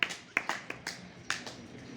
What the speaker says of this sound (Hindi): तो बहुत अच्छा बच्चों, एक बार ताली बजाओ